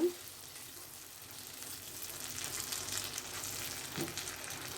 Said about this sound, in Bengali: এখন সবগুলো উপকরণ আমি আবার একটু নেড়ে নেব।